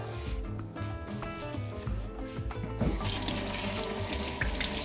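Spinach rinsed under a running cold-water tap while cooking, a steady splashing stream at moderate level that grows brighter and louder partway through, with clattery kitchen tones underneath.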